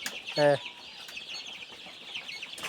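A young hybrid Sonali chicken gives one short, loud cluck close by, followed by a quiet outdoor backdrop of faint chirping.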